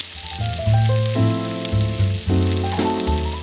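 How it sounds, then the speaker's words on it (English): Potatoes cooking in a pan over medium-high heat, a steady close sizzle running alone throughout, with low tonal hum underneath. "And now let's just add in our potatoes. And we're just gonna cook these on medium-high for probably 10 to 15 minutes."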